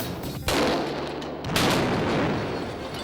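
Firecrackers packed inside a trombone mute go off in two sharp, loud blasts about a second apart, each followed by a dense, roaring wash of noise.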